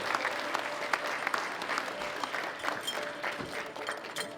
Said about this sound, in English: Big round of applause for all three of our winners.